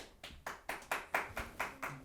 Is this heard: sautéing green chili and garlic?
no